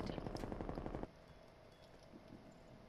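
Rapid automatic gunfire from Call of Duty Cold War in a 2v2 Search and Destroy match, a loud dense burst of shots for about a second before dropping to quiet game ambience.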